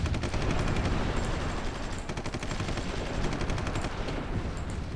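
Rapid machine-gun fire in the video game Supreme Ruler Ultimate, dense continuous bursts of shots crackling in quick rhythm for several seconds, with no talking.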